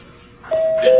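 A doorbell rings once indoors, a bright sustained chime tone starting midway and holding to the end, fairly loud and close.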